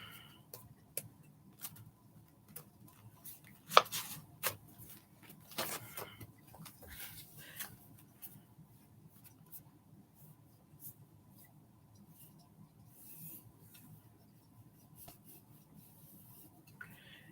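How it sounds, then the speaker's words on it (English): A pen draws on a note card with faint, close scratchy strokes and light taps, irregular and quiet, interspersed with small handling sounds and no talking. "hold on, I'll draw you one on a note card"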